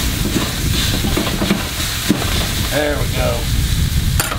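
Onion burger searing on a Ballistic BBQ griddle gives a steady, broadband sizzle throughout, with a person talking briefly over it and a short clink near the end.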